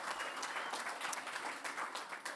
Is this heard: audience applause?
yes